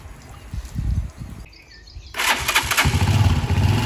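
A motorcycle that sat idle for a year, with freshly cleaned clogged carburetor idle and main jets, cranks briefly, pauses, then catches and roars to life, loud and close, while birds chirp faintly in the background.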